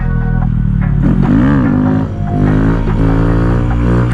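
A Honda Grom motorcycle revs hard and continuously at close range as its rider pulls wheelies, the engine note rising and falling in loud sweeping surges.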